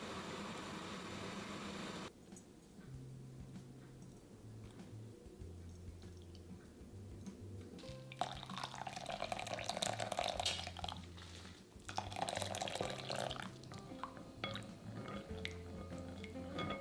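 Boiled ramen noodles being drained, with water pouring and splashing in bursts alongside dripping and faint clatter over a quiet background hum; no voices.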